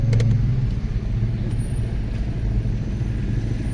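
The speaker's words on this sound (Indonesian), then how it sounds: "Ini mobil apa kok lucu ya? Mobil antik tuh ya." Antique car driving at a crossroads on a rainy day, a low steady engine rumble heard close and continuous with faint high hiss above, no talk.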